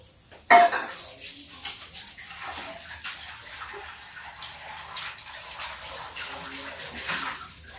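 Water runs steadily from a kitchen tap while a bowl that held besan is rinsed, with light clinks of dishes and a sharp knock near the start, all fairly close and moderately quiet.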